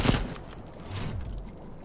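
A burst of rapid gunfire in the fighting video game Mortal Kombat XL, a dense fusillade of overlapping shots lasting under two seconds, loud at the start and then rumbling on.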